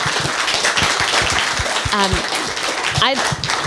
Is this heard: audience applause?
yes